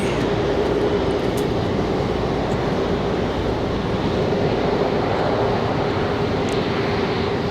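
A heavy international airliner at Raleigh-Durham airport, its engines producing a loud, continuous, steady roar with a sustained tonal hum, close and dominant throughout with no voices heard.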